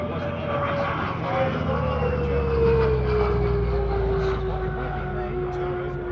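A CAC Boomerang, an Australian-designed World War II fighter, drones overhead at the Wings Over Illawarra airshow, its piston engine holding a steady loud hum with a slowly falling pitch as it passes, against open-air crowd ambience.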